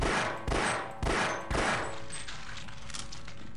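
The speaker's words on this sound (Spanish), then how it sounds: "Hemos metido 8 tiros." Three rapid, loud gunshots in Half-Life, fired roughly half a second apart, followed by a long echoing decay that fades into a steady ambient hum from the game.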